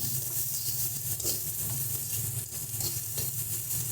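Spice paste for a morola fish and bean-seed curry sautés in a pan, giving a steady, close, even sizzle and hiss throughout with no talking.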